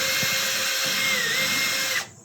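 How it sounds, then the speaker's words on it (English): A drill spins at a steady high-pitched whine for about two seconds before cutting off. "We'll drill another one"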